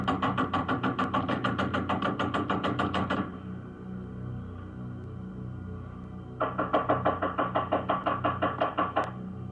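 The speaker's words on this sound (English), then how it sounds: "I'm knocking on the door and nobody answering." Rapid bursts of knocking on a front door, two runs of loud, evenly spaced raps separated by a few seconds of quiet with a low background hum.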